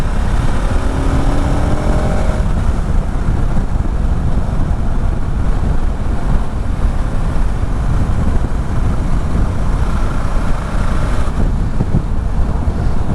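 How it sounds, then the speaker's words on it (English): A 2021 KTM 1290 Super Adventure S motorcycle runs steadily at speed on the road, its engine drone mixed with heavy wind rush across the microphone throughout. "These 1290 engines, they're so smooth and powerful, really good fueling."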